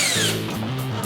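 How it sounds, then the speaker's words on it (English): A power drill drives screws through the back of a wooden aquarium stand into a wall, a short whirring burst that shifts pitch as the motor labours, fairly quiet and close. "screwing the backside of the stand to the wall itself"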